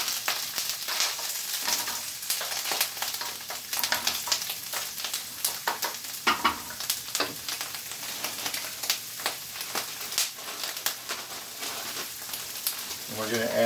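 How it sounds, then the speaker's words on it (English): Mushrooms, about half a cup, sizzling steadily in a hot pan, a continuous crackling hiss with scattered pops and stirring scrapes, close and moderately loud throughout. "we're going to add about a half a cup of mushrooms, get some sizzle going"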